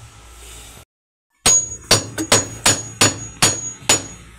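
Sharp metal hammer blows on a Samsung automatic washing machine gearbox, about eight strikes at a steady rhythm after a short silence, close and loud with ringing metallic tails.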